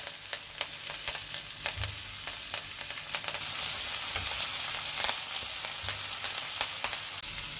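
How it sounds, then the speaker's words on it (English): A saddle of lamb sears in butter in a hot pan, giving a steady soft sizzle with scattered crackles and pops and a few low thumps of the meat being moved. "now we're trying to just get a nice golden brown sear on"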